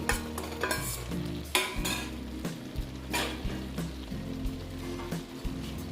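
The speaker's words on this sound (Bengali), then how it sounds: "পটল আর সয়াবিনটা কষিয়ে নেব" Pointed gourd and soybean chunks sautéing in a pan with tomatoes, a spatula scraping and stirring in repeated strokes with clinks against the pan over a soft sizzle, close and fairly quiet, no talking.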